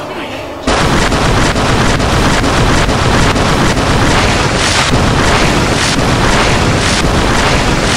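Blasts from a wood jutsu mod in GTA San Andreas, used on pedestrians: a loud, dense wall of repeated explosions starts abruptly and rolls on without pause, with booming hits landing in quick succession.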